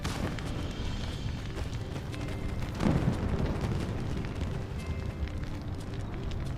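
Fireworks exploding in the game My Time at Sandrock, a steady rumbling wash of bursts with a somewhat louder pop near the middle, fairly distant and muffled with no talk over it.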